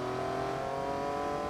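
A Jaguar race car engine in Forza Motorsport 2 holds a steady, loud drone with strong tonal harmonics, running continuously and alone throughout the short stretch.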